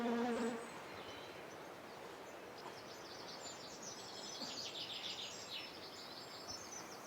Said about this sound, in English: You plant a geum, and literally within a minute, there are bees.